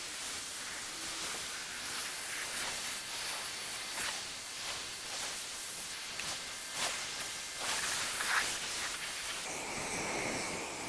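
Pressure washer spray rinsing soap off a car, a steady broadband hiss with pulsing bursts as the wand sweeps from top to bottom, close and continuous for the whole stretch with no talk.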